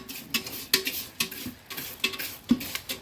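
Puffed rice (khoi) dry-roasting in a pan is stirred, giving a series of irregular scraping strokes and light metallic clinks, close and clear, with no talking.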